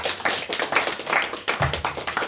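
An audience at a literary conference applauds steadily, with dense, close clapping throughout and no talking.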